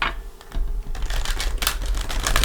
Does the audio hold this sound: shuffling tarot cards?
yes